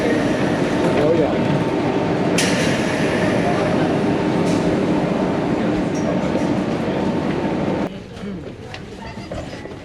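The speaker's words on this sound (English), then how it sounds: "we just got on the train headed to Sitges" Interior of a train running from Barcelona's Estació de França toward the beach town of Sitges, with a steady loud rumble of wheels and carriage that eases slightly near the end, plus brief higher squeaks.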